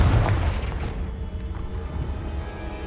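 A Confringo explosion spell in Hogwarts Legacy lands as a loud, deep boom that fades into a rumbling tail.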